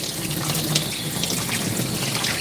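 Tap water runs steadily and loudly while a dog is rinsed during grooming, a continuous close splashing hiss with no voices.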